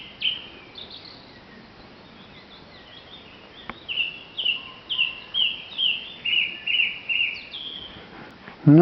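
A song thrush sings repeated bright, whistled phrases from a short distance, each motif delivered in quick succession against a quiet outdoor background, growing more insistent toward the end.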